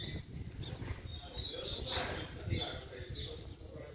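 Small songbirds chirp and whistle in quick high trills at a bird gathering, fairly close. People talk nearby underneath the song.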